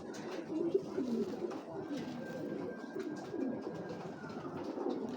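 Soft, low racing pigeon cooing continues through the whole stretch, with steady background noise and a thin high tone drifting in the middle.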